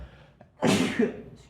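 A single loud sneeze bursts out close by, preceded by a brief sharp intake of breath.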